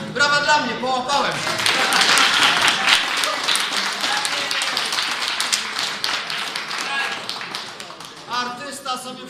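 Crowd applause and cheering at a live punk concert in Gliwice, dense clapping swelling then tapering over several seconds, with voices and shouts mixed in.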